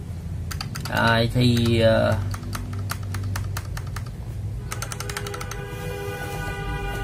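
Typing on a GamaKay LK67 mechanical keyboard fitted with AKKO switches, a steady rapid patter of crisp keystrokes close to the microphone, with a voice speaking briefly over it.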